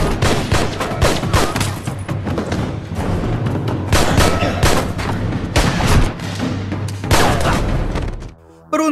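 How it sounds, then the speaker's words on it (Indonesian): Rapid bursts of gunfire from a film shootout, loud and dense with booming shots and layered impacts over a music or effects bed, running almost continuously before cutting off near the end. "terjadi baku tembak"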